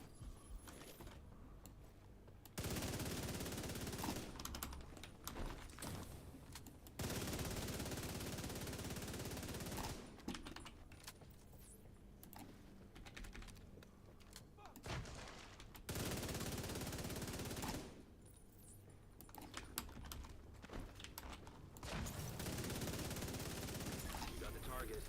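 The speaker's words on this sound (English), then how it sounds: "Mate, he's still firing. Look, 65 round mag," Long sustained bursts of automatic gunfire from an enemy's 65-round magazine in The Division 2, several loud rattling volleys with short pauses between them, with occasional talk in the gaps.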